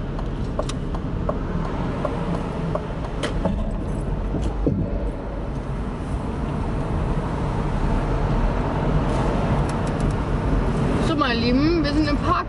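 A car's wheel rims grind and squeal against a curb near the end, a brief wavering scrape over the steady hum of the car interior and road noise, with voices in the background.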